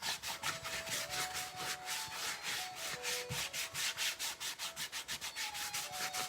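Excess multigrain bread dough is scraped from a work surface with quick, rhythmic rasping strokes, each one close and clear, while soft background music plays underneath and no one speaks.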